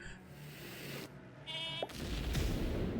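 A sheep unit in the mobile strategy game Phobies gives a short bleat, loud and close over a rumbling game background, lasting about three seconds.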